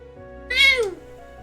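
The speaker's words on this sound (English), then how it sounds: "That sounded like a cat, not the bird." A cat meows once in the Trails into Reverie video game, a single clear, loud rising-and-falling call over a quiet steady background hum.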